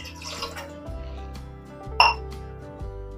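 Half a glass of water is poured into a pot of soaked chickpeas while cooking, a short near splash and trickle with a faint clink against a quiet kitchen hum.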